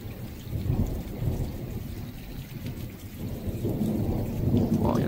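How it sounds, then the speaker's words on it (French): A thunderstorm rumbles with low rolling thunder over steady rain falling on surfaces, loud and continuous with no voices. "Alors là-bas c'est un orage, c'est sûr"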